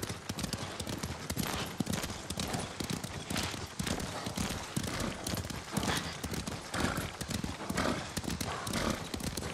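Several horses gallop in the samurai action video game Ghost of Tsushima, with dense, rapid hoofbeats thudding continuously and loudly throughout, with no voices over them.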